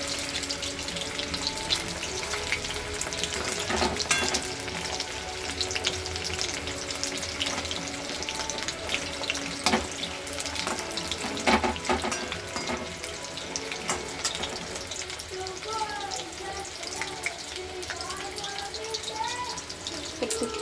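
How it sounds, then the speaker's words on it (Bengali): Pakoras deep-frying in hot oil, a steady dense crackle and bubbling sizzle that runs continuously throughout at moderate loudness, with faint kitchen clatter and no talk. "সব পকোড়াগুলো আমি ভেজে নেবো আস্তে আস্তে করে"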